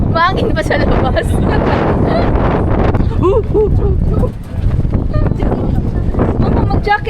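Strong outdoor wind buffeting a phone microphone in Hong Kong, loud rumbling gusts continuing throughout, with voices talking over it.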